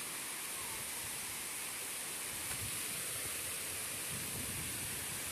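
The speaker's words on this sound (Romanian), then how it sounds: "Astăzi iarăși în vizită la cascada spumoasă." Spumoasă waterfall in Bușteni roaring in a constant, dense rush of falling water, even and unbroken from start to finish with no voices.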